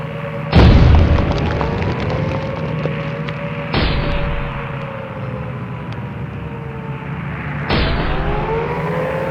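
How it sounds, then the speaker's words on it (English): Three heavy booms of explosions go off several seconds apart, each with a deep rumbling tail, over a steady droning hum. "Bombs were thrown upon the area."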